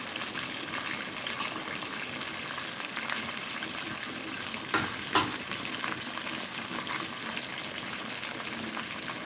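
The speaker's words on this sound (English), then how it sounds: "Yeah, we're almost done frying." Chicken fries in a cast iron pot for brown stew chicken, giving a steady, close crackling sizzle with scattered pops and a couple of louder bursts midway, no voices.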